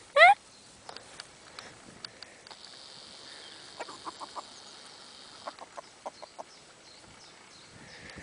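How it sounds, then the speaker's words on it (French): Silkie hens, a non-bantam breed, clucking softly in short scattered bursts around a brooding hen, moderately close, with a sharp squawk at the start and a faint sustained tone in the background. "ce sont des poules soie qui ne sont pas naines"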